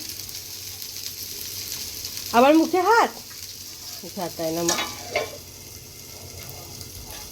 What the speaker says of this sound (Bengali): আলু ফুলকপি ভাজা হচ্ছে